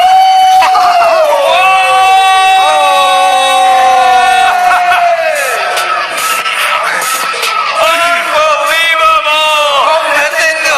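Crowd at a Christmas event in Hanoi roaring and yelling in response to a call for noise, loud sustained cheering with long bellowed shouts layered over a dense wash of voices.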